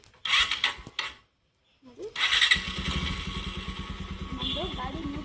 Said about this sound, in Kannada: ನಮ್ಮದು ಗಾಡಿ ನ್ಯೂಟ್ರಲಲ್ಲಿದೆ ಮತ್ತು ಸೈಡ್ ಸ್ಟ್ಯಾಂಡ್ ಇಲ್ಲ ಅಂತ ಗಾಡಿ ಸ್ಟಾರ್ಟ್ ಆಗಿದೆ